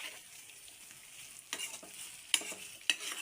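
Onions frying in a pan for biryani, a soft continuous sizzle with a few louder scraping stirs and clacks of a spoon near the end, close by and with no talking.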